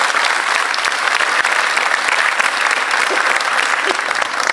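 A conference audience gives sustained, loud, even applause welcoming a speaker to the stage, a dense wash of clapping with no pauses throughout.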